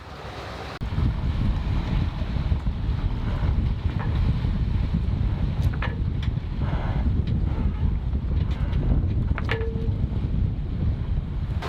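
A sailboat at sea in 19-knot wind, sailing near the San Blas Islands: a loud, steady roar of wind buffeting the microphone with rushing water beneath, plus a few brief creaks and rattles from the boat.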